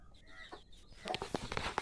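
A brooding hen clucks in short, irregular bursts at close range as her chicks hatch, getting busier and louder toward the end, with faint chicken sounds behind.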